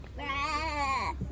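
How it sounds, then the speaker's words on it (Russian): Edilbay sheep at a zoo give a single drawn-out, wavering bleat lasting about a second, close and loud, with no talk over it. "А, это овцы."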